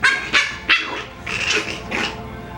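A Coton puppy gives a run of close, high, sharp yips and barks, three quick ones followed by two longer whiny barks, loud and near.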